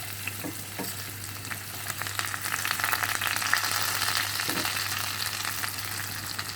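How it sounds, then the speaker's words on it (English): Washed Nakonde rice fries in a pot for jollof, a dense, steady close sizzle with faint stirring scrapes and a low background hum, no talking. "So I've washed my 1 kg of Nakonde rice. I'm going to fry it first."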